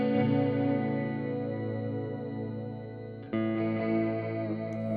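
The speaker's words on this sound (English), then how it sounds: "the voice knob introduces an octave down, octave up, and 2 octaves up" MXR Joshua Ambient Echo pedal with its voice knob fully up, adding octave-down, octave-up and two-octaves-up layers to a sustained guitar chord, a dense shimmering wash that swells anew after a fresh strum near the end.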